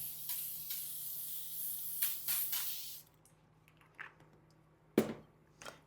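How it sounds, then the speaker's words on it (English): Cooking spray hisses into a 9 by 13 baking pan for a cheesy hashbrown casserole, with a few close, sharp bursts over about three seconds, then quiet small clatters and rustles. "And we're just going to spray it"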